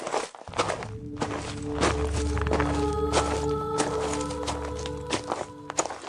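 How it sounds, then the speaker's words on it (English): Slow, deliberate footsteps approach through a forest at Aokigahara, a steady series of close, distinct thuds over a low ambient rumble, with no voices. "from the trees, footsteps, slow, deliberate, and coming toward them"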